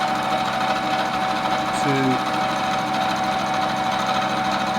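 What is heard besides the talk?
metal lathe facing cut with cross feed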